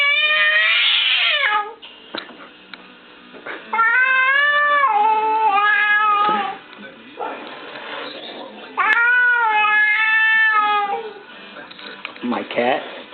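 Angry cat yowling and caterwauling after being frightened by a Halloween mask, loud drawn-out wavering cries in three long bursts with short pauses between.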